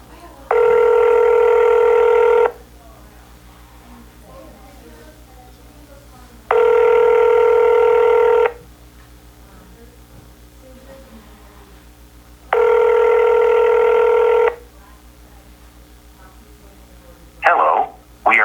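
A telephone rings out on a call that goes unanswered: three long, loud ringback tones about two seconds each, evenly spaced with quiet gaps and a low hum underneath, then a brief clatter as the line picks up.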